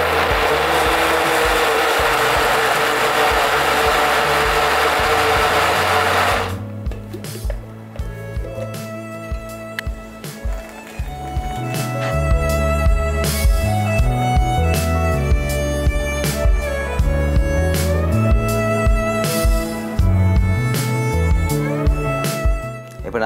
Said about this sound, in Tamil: இதை நாங்கள் நல்லா மிக்ஸ் ஆகிற அளவுக்கு நாங்கள் மிக்சியில் போட்டு அடிக்க வேணும்